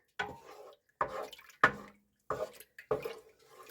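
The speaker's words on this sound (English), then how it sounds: "I'm going to give it just a little bit of a stir" A spoon stirring grape juice in a pot, giving a few separate swishes and clinks at an uneven pace, close and clear with quiet gaps between strokes.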